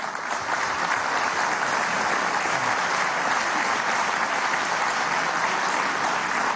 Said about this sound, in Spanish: quiero pedirle un fuerte aplauso